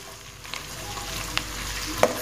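A large chopped onion frying in hot oil for masoor dal, with a soft continuous sizzle and a few light clicks and scrapes as the pieces are stirred, fairly quiet and without talk.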